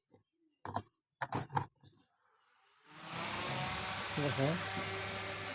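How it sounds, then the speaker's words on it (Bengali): A few spoken words, then an electric fan switches on and runs with a steady whooshing hum and motor whine. "সেই জন্য ফ্যানটা জুড়ে দিই বিলের সামনে"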